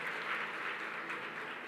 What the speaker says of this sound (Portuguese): Vamos aplaudir ao Senhor por essa palavra?